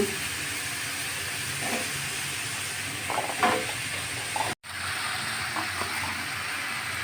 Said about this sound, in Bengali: এখন আমি ধুয়ে কেটে রাখা সবজিগুলো দিয়ে দিচ্ছি ডাল তরকা বানাচ্ছি